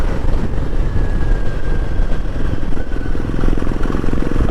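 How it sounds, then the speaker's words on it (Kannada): A Royal Enfield Himalayan motorcycle rides on an open road, its engine a steady, loud, close drone with wind rush and no break throughout. "ನೋಡ್ರಿ ಇದು ಹಿಮಾಲಯನ್ ರೈಡ್. ಏನು ಓಡ್ತಾವ್ರಿ ಗಾಡಿ ನೋಡ್ರಿ."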